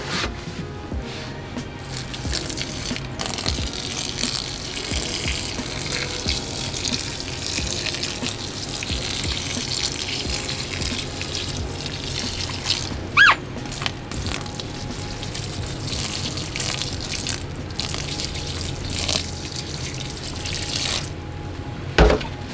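Water pours steadily from a jug onto reptile coconut chip substrate, a continuous splashing, trickling wash that lasts throughout, with a couple of brief knocks partway through.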